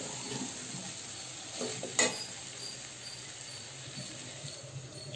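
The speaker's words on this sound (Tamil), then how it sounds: "ஸோ வதக்கிக்கலாம்." Onions and tomatoes frying with rock salt in a pan for bottle gourd kootu give a gentle, continuous sizzle, with close stirring scrapes and a single sharp utensil clink partway through.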